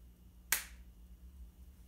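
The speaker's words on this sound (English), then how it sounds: "see what happens when I snap my fingers" A single sharp finger snap, close and crisp, in an otherwise quiet room with a low background hum.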